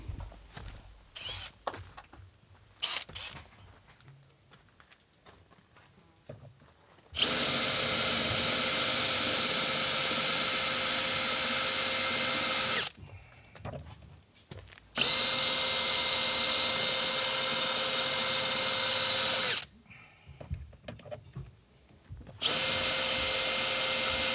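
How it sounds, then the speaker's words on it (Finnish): A power drill fitted with a left-handed drill bit whirs loudly in three sustained bursts while replacing Hymer motorhome roof trims, separated by short pauses filled with quieter clattering and handling noises. "Nyt me kokeilen vasenkätistä poranteräsarjaa"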